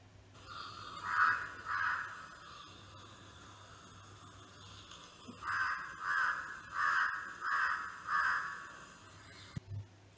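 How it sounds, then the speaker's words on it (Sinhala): A crow caws in a short pair of harsh calls, then after a gap a run of five evenly spaced caws, fairly close and clear over a faint background hum. "අනතුරක් සිදු වුණාම සහ කෑමට යමක් හමු වූ විට කාක්කා කෑ ගසමින් අනෙක් කාක්කන් කැඳවෙනවා."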